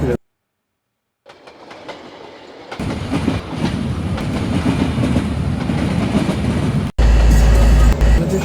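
A Bangladesh Railway train rumbles loudly along the tracks with a steady clatter that grows heavier, and people speak briefly over the noise.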